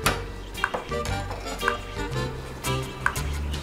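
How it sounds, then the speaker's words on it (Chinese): A utensil stirs in a pot as egg goes into hot chicken soup, with soft scraping and clinking taps against the pot over a steady low simmer. "然后呢我们现在把蛋打进来"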